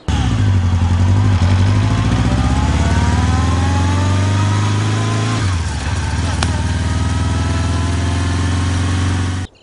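A loud motorbike engine runs steadily, idling low then revving slightly and dropping in pitch, with faint voices underneath before it cuts off.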